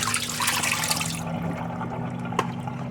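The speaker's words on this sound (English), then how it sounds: "I'm gonna pour this water off." Brine water poured off soaking lamb pieces in a kitchen, a steady close splashing stream that thins out partway through, ending in a faint trickle.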